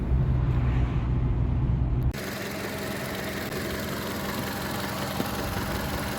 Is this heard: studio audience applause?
no